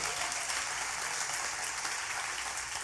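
Members of a church congregation give sustained, even applause, a dense wash of clapping from many hands throughout with no talk over it.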